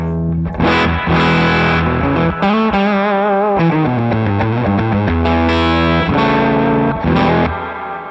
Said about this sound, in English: I'm pushing those tubes, or tubes, if you will, and we're getting kind of an overdriven sound